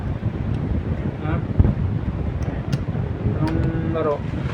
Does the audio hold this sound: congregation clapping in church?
no